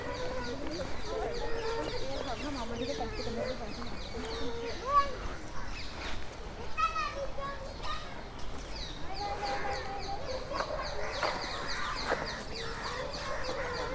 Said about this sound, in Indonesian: Lihat burungnya.